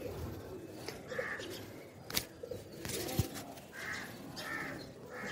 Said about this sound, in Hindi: यहाँ पर कबूतर भी हैं, जैसा कि आप देख रहे हैं, यहाँ पर कबूतर हैं, पिजन हैं